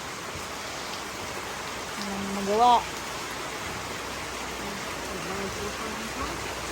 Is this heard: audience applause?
no